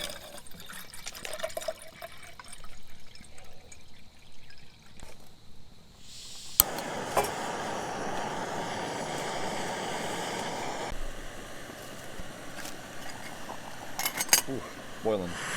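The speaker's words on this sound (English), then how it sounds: "Ooh, boiling." Water bubbling and rolling steadily on a camping stove outdoors after a quiet start, with a few clinks of utensils near the end.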